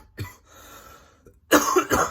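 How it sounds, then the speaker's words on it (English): A man with a bad cough lets out a short cough, then after a brief pause a louder, harsher double cough, close to the microphone. "I have a really bad cough, okay?"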